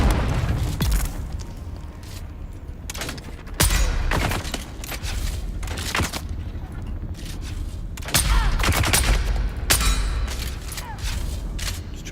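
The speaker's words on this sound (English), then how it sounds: "Of course it's a grenade." A grenade goes off in a video game set on the desert planet Arrakis, with heavy booms among continuous rumbling gunfire and mechanical clatter, and a couple of louder blasts standing out.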